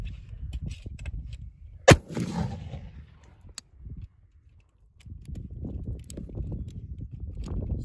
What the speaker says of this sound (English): Chain fire test number six.